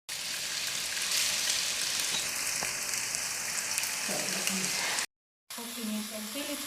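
Sausage cooking in a pan gives a loud, continuous sizzle that sounds much like spattering rain, broken by a brief silence near the end before the frying resumes.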